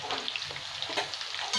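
Potato pieces fry in a pan with salt and turmeric for a chicken curry, giving a steady close sizzle with stirring scrapes and brief louder spatters, no talking.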